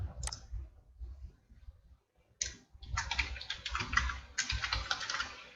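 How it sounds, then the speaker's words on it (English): Keys clatter on a computer keyboard in quick, uneven bursts of typing with short pauses between them, close and fairly loud in a quiet room, as a shift name is entered into employee scheduling software. "Type the shift name."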